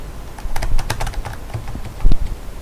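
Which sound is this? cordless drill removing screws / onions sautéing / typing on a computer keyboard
typing on a computer keyboard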